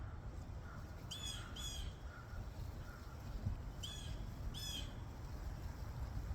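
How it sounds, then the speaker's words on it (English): Crows give several harsh caws in two short bursts, each a quick pair or trio of calls, fairly faint and distant over a soft outdoor background hiss. "It's a crow song. Don't normally get a crow song."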